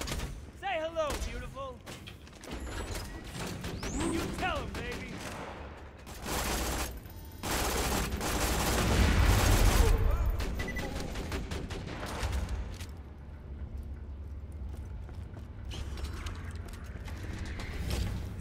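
Shotgun blasts and mechanical weapon clatter burst out in the shooter game Borderlands, loud bursts mixed with reloading clicks, rattles and busy game effects, with someone talking over parts.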